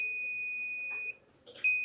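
A multimeter gives a continuity beep while probing the display circuit of an Oppo A7 phone under repair: a steady electronic tone that cuts out briefly, then sounds again, close and clear.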